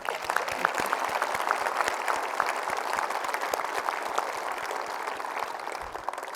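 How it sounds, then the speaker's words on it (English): Sustained audience applause at a space agency event honoring Apollo 17 and Artemis astronauts, dense and steady clapping from a large crowd filling the room throughout, with no speech over it. "I think that deserves a round of applause."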